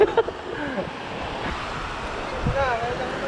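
Ocean surf at the seashore in San Fabian, Pangasinan, heard as a continuous rushing wash of waves mixed with wind buffeting the microphone, with people chatting faintly over it.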